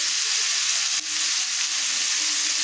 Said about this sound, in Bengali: আলু টমেটো দেওয়া হয়ে গেছে দিয়ে একটু নাড়ানাড়ি করছি